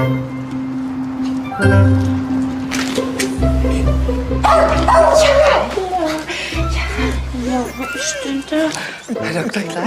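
A dog barks and yips in short bursts close by, mixed in with people talking and musical background.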